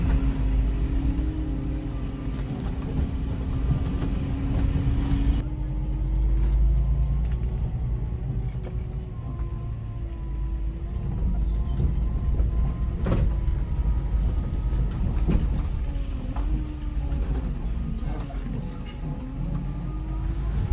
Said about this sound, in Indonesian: Nampak kita bisa dengar raungan Hino saat menanjak sudah cukup berteriak.